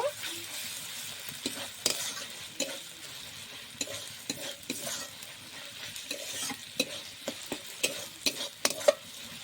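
Spice masala being sautéed in a pan, with repeated scraping stirs of the spatula over a soft continuous sizzle, close and fairly quiet, no voices.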